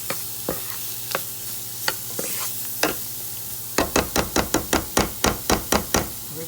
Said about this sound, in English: We're going to saute that for, I guess, about 2 or 3 minutes